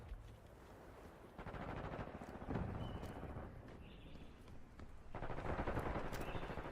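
Rapid, continuous gunfire from a submachine gun in a video game, dense rattling bursts that run nearly the whole time with brief lulls and louder stretches, fairly close and steady.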